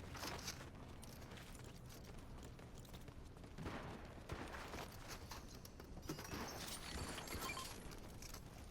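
Spire Rifle shots fired in the Fortnite video game, heard as faint, scattered sharp bursts over a steady background wash, with a few louder cracks near the end.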